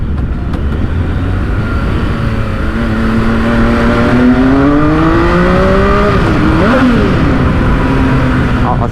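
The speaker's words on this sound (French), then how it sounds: "Le moteur là, ce 3 cylindres, il est fou. En plus il y a une ligne haro carbone dessus." A three-cylinder motorcycle engine with a carbon exhaust line revs inside a tunnel, loud and booming as its pitch climbs steadily, then drops sharply around a gear change before rising again, with wind rush underneath.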